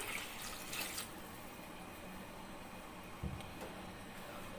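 About 1.5 litres of water runs steadily into a cooking pot for beef bong curry, a soft continuous splashing that stays fairly even throughout, with a faint clink near the end.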